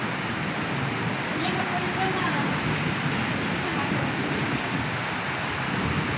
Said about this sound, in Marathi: हे बघा किती पाऊस चालू आहे.